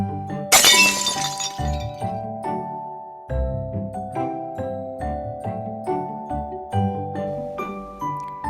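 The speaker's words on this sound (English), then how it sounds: "The vase falls over and surprises the boy. The vase is broken." A glass vase topples over and shatters in one sharp, bright crash near the start, followed by music.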